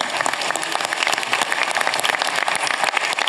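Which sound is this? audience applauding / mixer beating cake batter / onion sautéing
audience applauding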